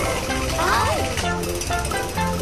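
In a cartoon a drill rattles loudly in a rapid pounding burst close by, mixed with music and a short sliding voice-like tone.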